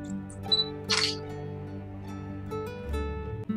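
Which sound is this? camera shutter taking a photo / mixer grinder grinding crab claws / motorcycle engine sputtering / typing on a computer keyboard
camera shutter taking a photo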